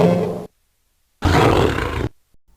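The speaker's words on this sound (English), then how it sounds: "The sounds it makes are somewhat similar to a lion." Pinky Demon from DOOM Eternal letting out two loud, deep, lion-like roars, a short one followed by a pause and a longer guttural roar that trails off abruptly.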